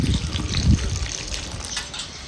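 Water from a small metal pot is poured over washed ghol (purslane) greens in a cooking pot, a steady gushing splash that is strongest at first and then settles into a softer trickle.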